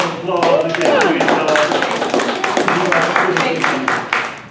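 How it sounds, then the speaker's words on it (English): An audience applauds a panel with a burst of close, fairly loud clapping, mixed with voices talking and cheering over it. "So give our panelists a round of applause."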